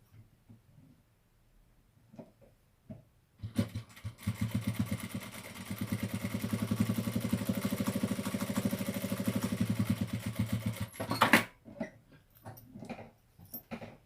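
A sewing machine stitching a seam near the edge of fabric, a steady fast mechanical whirring run of about eight seconds, close by, framed by brief clicks and handling noises before and after.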